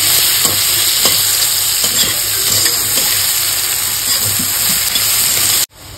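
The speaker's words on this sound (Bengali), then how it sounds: "এবার পেঁয়াজ কুচির সাথে আলুটাকে খুব ভালো করে কষে নেব, যতক্ষণ না পেঁয়াজটা নরম হয়ে আসছে ততক্ষণ" Chopped onion and potato sautéing in a pan for a jackfruit and prawn dish, giving a loud, steady sizzle with soft scraping stirs throughout, then abruptly cutting off near the end; no talking.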